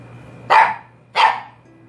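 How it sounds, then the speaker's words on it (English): A dog barks twice indoors at home, two loud, close single woofs about two-thirds of a second apart, with a faint low hum behind them. "she just like likes to feel the vibrations of her barking"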